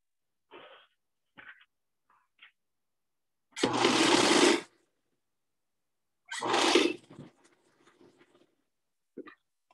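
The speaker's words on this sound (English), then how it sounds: "whose sewing machine am I hearing?" A home sewing machine runs in two short bursts of about a second each, heard through a Zoom call over a quiet background, with brief clicks and short vocal sounds in between.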